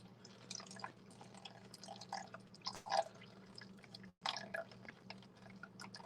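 Water poured into a pot of roasted cauliflower, gouda and mustard soup, a soft intermittent trickle with drips and small splashes, fairly quiet against kitchen background hum, with a brief louder pour near the middle.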